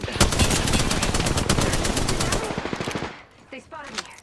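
Rapid automatic gunfire from a light machine gun in the battle royale game Apex Legends, loud sustained bursts for about three seconds, then a short gap and a few scattered distant shots.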